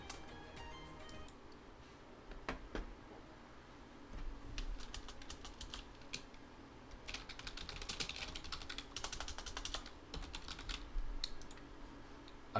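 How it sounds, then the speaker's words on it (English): Steady typing on a computer keyboard, quick clustered keystrokes with brief pauses, close and clear over a low background hum. "I'm good at typing, ignore that."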